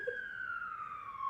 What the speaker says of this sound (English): I love when the sirens come out.